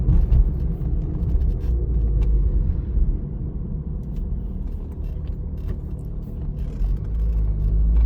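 A car driving on a city road during a practical driving exam, a steady low engine and tyre rumble heard from inside the cabin, continuous and fairly loud.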